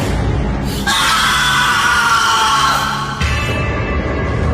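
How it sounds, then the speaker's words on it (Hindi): A scream in a forest as a horror story sound effect, a loud, sustained shrill cry lasting over two seconds over a dense, echoing background. "एक चीख जंगल में गूंजी"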